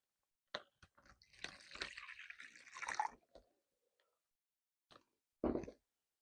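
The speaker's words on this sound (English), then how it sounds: "So I'm just going to add some water in here." Water poured into an Amazon Basics quart-sized plastic storage bag, heard as close, wet splashing and plopping that runs for a couple of seconds, followed by a few isolated drips and a final squishy slosh.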